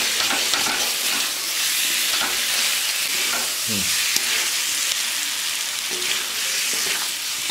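Potatoes frying and sizzling in a pan for a village-style sea chela fish curry, a steady broadband hiss with occasional stirring scrapes, close and continuous, with no talk over it.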